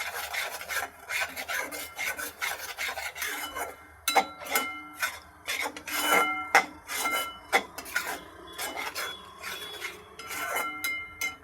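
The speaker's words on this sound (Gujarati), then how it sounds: "થોડી હળદર, અને સારી રીતે મિક્સ કરીશું." A spoon scrapes and rubs against a pan in quick irregular strokes as turmeric is stirred into a corn dish, close and fairly quiet, with no voices.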